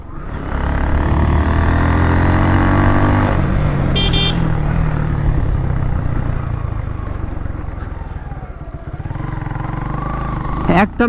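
A Suzuki Gixxer Monotone motorcycle is ridden on a road as rain begins. Its close, loud engine drone rises and falls with the throttle, and a brief horn toot sounds partway through.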